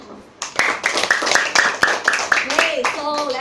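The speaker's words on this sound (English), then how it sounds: "let us give a round of applause to our debaters for this morning" A round of clapping breaks out for the student debaters at a class debate: scattered, fairly close hand claps build and continue, with voices mixed in underneath.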